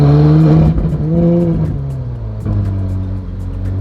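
A Ferrari 458 GT3 or Mercedes SLS GT3 race car engine rumbles at low revs, its pitch dipping and rising slightly as it pulls along, loud and close.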